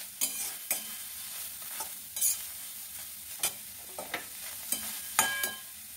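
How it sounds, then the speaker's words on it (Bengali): Cumin, fennel and panch phoron are dry roasted in a pan, heard as quiet, faint crackling with about ten sharp, irregular scrapes and taps from stirring, and no voices. "এগুলো দেখো ড্রাই রোস্ট করে নেবো। জিরে, মৌরি, পাঁচফোড়ন"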